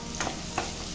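Green chillies fry in a pan over a medium flame, a steady low sizzle with two brief louder crackles as they are stirred, close and alone with no voices.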